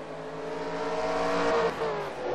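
Race cars in a racing video game roar past uphill, a dense layered engine drone with rising and falling tones, loud and continuous with no talk.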